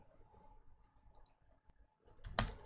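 Keystrokes on a computer keyboard click sparsely and softly as commands are entered in a Linux terminal, ending in a louder cluster of presses.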